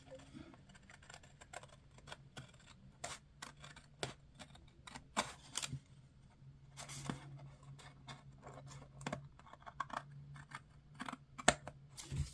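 Scissors cut and trim excess tape on a planner page, quiet, close snips and clicks scattered irregularly over a soft background.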